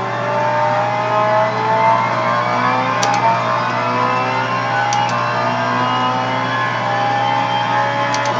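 A race car engine in Gran Turismo at Suzuka during a rain endurance race holds a loud, steady drone with slowly rising and falling pitch as it accelerates, close and continuous, with no talk.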